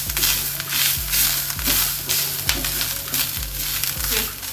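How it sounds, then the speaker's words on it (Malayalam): Grated coconut with urad dal and fennel seeds sautéing in a pan gives a steady hiss and crackle, with soft rhythmic scraping of a spatula every second or so. "നമ്മുടെ തേങ്ങയൊക്കെ വഴന്നു വന്നിട്ടുണ്ട്"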